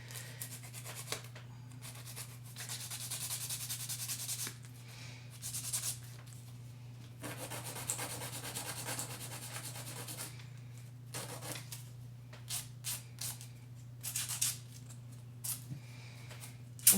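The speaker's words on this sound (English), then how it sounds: "And now I'm just going to take my file and shape them." Nail file shaping fingernails during a nail repair, a series of short, soft rasping strokes in irregular bursts over a low steady hum, close up and with no talking.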